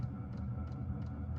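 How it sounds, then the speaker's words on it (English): A diesel heater runs inside a truck camper during winter camping, a steady low droning hum with a faint repeating ticking pulse, constant and moderately close with no talking. "you're wondering how I heat this in the back of the truck, I have a diesel heater"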